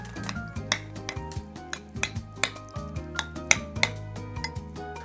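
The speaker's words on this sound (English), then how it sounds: "And then I'll just mix it up just like bibimbap." Korean canned tuna is mixed into rice in a bowl bibimbap-style, with a spoon scraping and clinking against the bowl in a quick, irregular rhythm of sharp taps.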